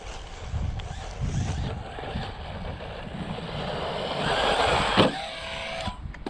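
A brushless Arrma Typhon Grom RC car pinned at full throttle, a high electric whine that swells as it speeds away and back, with wind buffeting and a sharp knock near the end.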